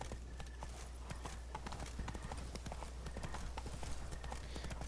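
Roach, the horse in The Witcher 3, trots with a steady, continuous clip-clop of hooves, close and fairly even, over a low constant rumble of background ambience.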